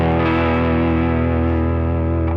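Guitar run through a Line 6 Helix stereo chorus effect holds a dense, shimmering distorted chord that sustains steadily and loudly throughout with a slight wavering modulation.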